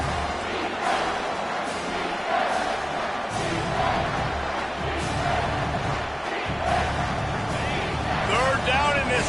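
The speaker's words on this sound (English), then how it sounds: "this crowd is tearing the lid off this place" A packed stadium crowd roars steadily on third down during a Wisconsin versus Syracuse game in College Football 25, a loud continuous wall of noise with surges of cheering and occasional thuds.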